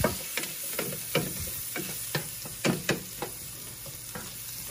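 Onion sautéing in a pan while making sipo egg: a steady frying sizzle broken by sharp clinks and scrapes of a utensil stirring every half second or so, close and fairly quiet, with no talking.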